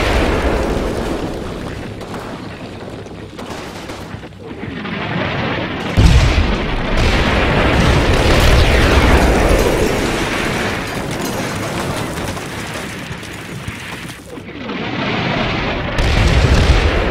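Artillery shells in the wargame Combat Mission land in heavy, rumbling explosions, with a sharp nearby blast and rolling booms after it, then a sustained roar that fades before another impact hits near the end.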